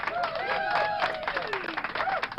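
Brief clapping under overlapping talk, a close, steady patter of a few hands mixed with voices.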